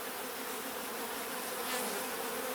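Continuous buzzing of many honey bees on a brood frame from a hive split, loud and near, swelling slightly toward the end with no voices over it.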